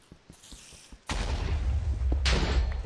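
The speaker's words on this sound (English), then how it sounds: "Just hear a ton of explosions." A sudden loud burst of rumbling blasts in Minecraft erupts after a quieter stretch of soft clicks, continuing as dense, booming game explosions and gunfire-like crackle.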